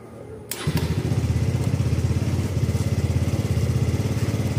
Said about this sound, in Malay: Okey, start lagi sekali.